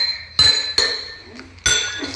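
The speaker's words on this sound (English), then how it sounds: "these five different glasses make different sounds because of the different water" Glasses holding different amounts of water struck one at a time, giving three sharp bright clinks with ringing tones that fade between strikes, close and fairly loud.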